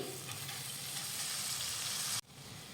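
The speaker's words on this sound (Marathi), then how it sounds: "आता ही मटकी परतून घेऊयात" Sprouted moth beans (matki) are sautéed with spices and coriander in a pan, a continuous close hiss of frying that cuts off abruptly and then settles into a quieter sizzle.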